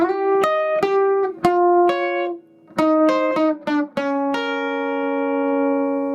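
An electric guitar plays a short flat-picked blues lick with crisp notes and quick bends, ending on a sustained ringing note, clean and close.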